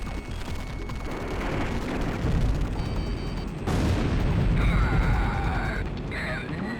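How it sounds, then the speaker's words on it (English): Secondary explosions in the combat flight game Ace Combat X: a dense run of booms and blasts, loud and near, swelling midway with crackling, metallic debris and game sounds layered through the rumble. "Ace Combat X actually has secondary explosions?"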